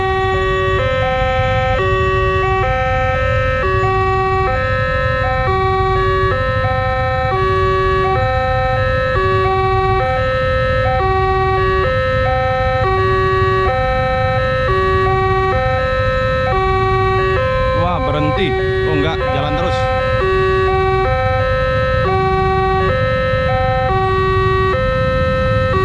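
Two alarm horns at a railway crossing sound together in a steady, loud alternating two-tone pattern throughout, with brief vehicle noise partway through and a constant low rumble underneath.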